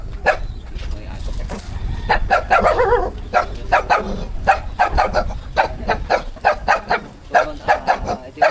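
Dog barking repeatedly, a steady series of loud, close barks at a quick regular rhythm over low background noise, with a faint high whine early on.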